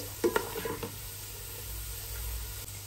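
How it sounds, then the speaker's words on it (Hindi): Onions frying on high flame for chicken dum biryani, a low steady sizzle with a few soft spoon clinks early on. "गोल्डन ब्राउन कलर आने तक प्याज फ्राई करते जाइए हाई फ्लेम पे"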